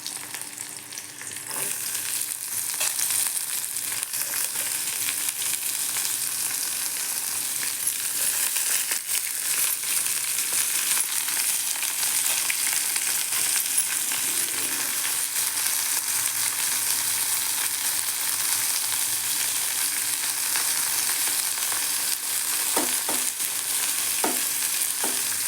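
Broad beans (avarakkai) with onion sautéing in a pan for a steady, continuous sizzle and fry hiss, with occasional faint stirring clicks and no talking.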